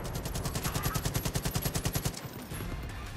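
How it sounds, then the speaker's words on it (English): A mounted machine gun in the Far Cry arcade game fires a rapid, evenly spaced burst of about twenty loud shots over roughly two seconds, then stops, leaving a faint background hum. "This is a mounted machine gun."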